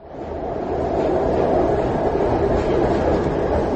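An oncoming train in a tunnel, its dense, roaring rumble swelling quickly and then holding loud and steady, with no voices.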